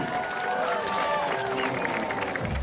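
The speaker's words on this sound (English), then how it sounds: "getting the big round of applause from Edmonton" A crowd at the Edmonton BMX flatland freestyle World Cup final applauds and cheers steadily after a rider's run, a dense wash of clapping heard beneath a commentator's voice.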